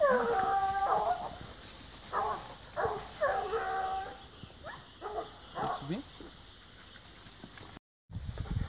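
Several hunting hounds on a wild boar scent bay and yelp in uneven bursts at a moderate distance, with pauses between volleys, over outdoor background noise.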